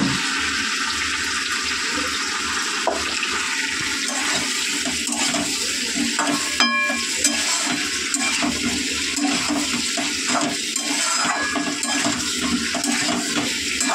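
Tomato goes into a hot pan and fries with a loud, steady, watery sizzle that fills the whole stretch, with occasional utensil clinks and no talking.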